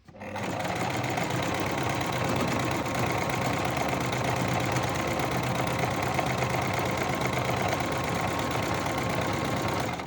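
A sewing machine stitches a bag lining for a crocheted bag, running continuously at a steady whirring, rattling pace from start to finish, close and loud.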